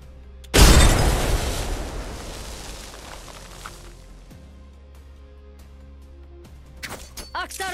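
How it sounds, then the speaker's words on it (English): A frag grenade goes off in Apex Legends: one loud close blast with a long rumbling decay over several seconds, followed by faint game effects and clicks. "A frag."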